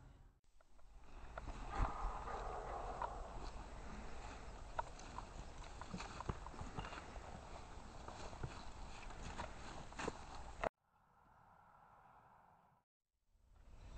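Horse hooves clip-clop at a walking pace, close and steady for about ten seconds over a faint background, then stop abruptly, leaving a short muffled hum.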